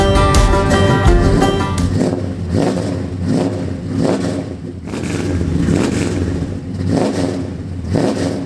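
Tuned car engine breathing through a Flowmaster racing exhaust, revving hard in repeated rising bursts that fall back between pulls, loud and close.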